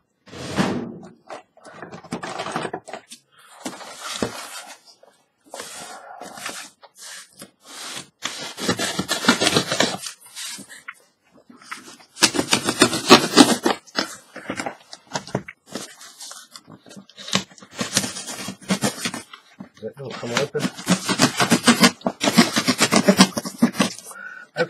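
A cardboard package being opened by hand, with scattered scraping, tearing and rustling bursts separated by brief pauses, close and fairly loud, with no talking.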